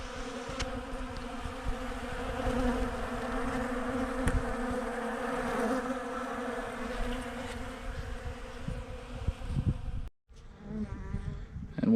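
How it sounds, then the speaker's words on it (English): Honey bees clean out scratched-open honey frames set on a poly nuc with a super, filling the air with a steady, close, dense buzzing drone that holds throughout before briefly cutting out near the end. "Bees are just cleaning them out."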